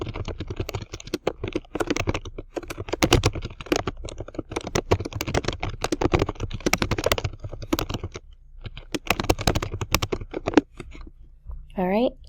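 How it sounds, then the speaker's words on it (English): Typing a short message on a computer keyboard, quick irregular clusters of close key clicks for about eleven seconds, a brief pause, then a rising voice-like sound at the end. "I'm just going to type in a short message"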